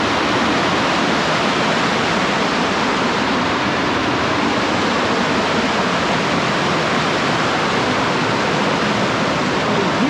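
Loud, constant roar of water pouring over Narhara Waterfall in Dhamtari, India, a dense unbroken rush with no voices.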